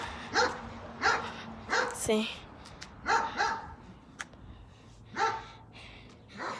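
Dogs barking outdoors at a backyard barbecue, a series of sharp, fairly close barks in an irregular rhythm about once a second, with a person speaking briefly between them.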